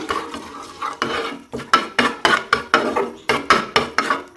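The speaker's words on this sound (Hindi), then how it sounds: "बस इसको थोड़ा सा फ्राई कर लेंगे" Cumin, two bay leaves and turmeric powder frying briefly in a pan for chickpea curry, heard as a quick series of regular scraping spoon strokes over a faint sizzle, close and fairly loud.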